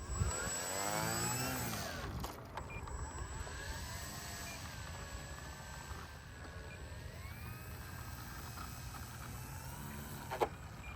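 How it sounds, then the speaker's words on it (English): An E-flite Taylorcraft RC model airplane with an oversized propeller flies overhead, its steady motor drone rising and falling in pitch as it passes, loud and continuous throughout with a brief sharp click near the end. "We are going to fly the Taylorcraft."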